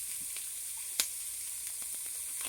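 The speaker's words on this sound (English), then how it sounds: "We'll let these onions cook for a little bit, just till they get translucent." Onions sizzling in a pot for zuppa toscana, a faint steady hiss with a single sharp click about midway and a few soft taps.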